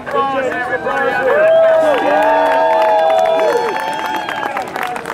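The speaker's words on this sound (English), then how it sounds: "One more big round of applause, everybody." Outdoor crowd at a Spartan obstacle race in Killington, Vermont, cheering and applauding loudly, with whoops and shouting voices over sustained clapping that carries steadily through the whole stretch.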